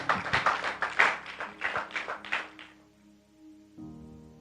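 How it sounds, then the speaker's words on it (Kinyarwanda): A church congregation claps for Jesus Christ in a burst of close, loud applause lasting a couple of seconds, then fading into a low hum. "Amashyi menshi ku Mwami Yesu Kristo"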